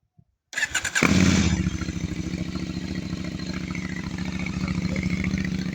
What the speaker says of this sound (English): I'm going to start the bike up now and we'll see how it feels.